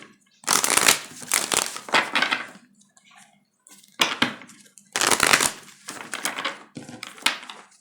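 Tarot cards shuffled by hand in bursts of papery riffling and slapping, close and fairly loud, with short pauses between rounds.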